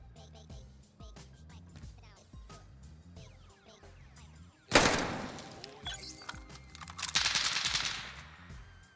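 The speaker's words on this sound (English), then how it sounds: "Gunfire will alert you to an enemy's presence" Bursts of rapid gunfire in a video game break out midway, loud and rattling, over a busy backdrop of game effects and music, with a second volley near the end.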